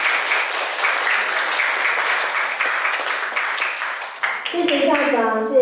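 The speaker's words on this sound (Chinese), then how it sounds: "我们再用热烈掌声来欢迎我们今天跟我们" An audience applauds warmly and steadily to welcome guests at a community charity donation ceremony at Changxing Elementary School in Fuxing, Taoyuan, Taiwan. The clapping is dense and close, then fades near the end as a voice and tones take over.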